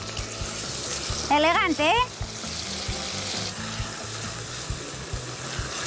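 Onion tipped into a pan of browned garlic sizzles and fries steadily throughout, with a brief spoken comment over the crackle.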